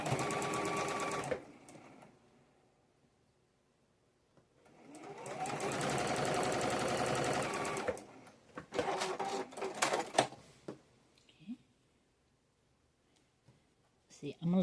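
A sewing machine stitches a quarter-inch quilt seam in two clear bursts, a short run and then a longer steady stretch, with a few clicks and handling noises between and after.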